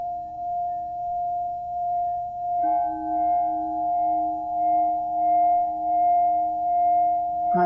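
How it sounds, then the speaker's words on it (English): A steady sustained pure tone used to vibrate sand on a metal plate in a cymatics demonstration, holding one pitch with a second tone joining partway through, moderately loud and alone. "Hans Jenny has shown with his films that particular tones, one tone in particular, when vibrating sand which has been placed on a metal plate,"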